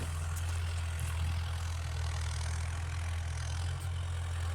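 Engine of a Mahindra Yuvo Tech+ 575 4x4 tractor working a clay field, a continuous, steady low-pitched hum at constant load, fairly close and without talk.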